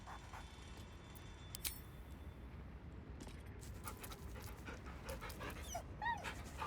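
A dog pants and whines softly in Baldur's Gate III over a faint low ambient bed, with a few sharp clicks and a rising whimper near the end.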